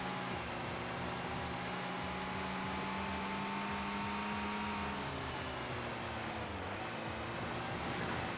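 Race car engine in the arcade racing game Max Power Racing, China stage: a steady, loud engine drone with a rising and falling pitch, running continuously with no talk.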